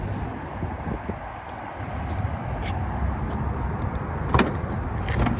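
The trunk of a BMW 1M Coupe being opened, with faint clicks and a latch thunk near the end over a steady outdoor background rumble.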